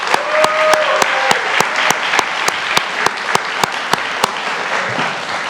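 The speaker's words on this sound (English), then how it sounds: "So a round of applause for them" Audience applause for student volunteers at a school awards night, a bed of crowd clapping punctuated by sharp, regular louder claps close by, continuing steadily throughout.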